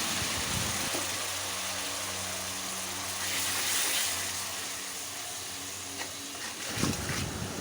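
Spice paste of salt, turmeric, coriander and chili powder with a little water frying in oil, a steady broadband sizzle and hiss that holds throughout, close and moderately loud.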